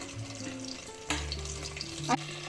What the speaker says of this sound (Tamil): பட்டர் நல்லா மெல்ட் ஆகி வரட்டும்